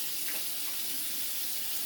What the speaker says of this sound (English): So here I'm going to rinse my hands.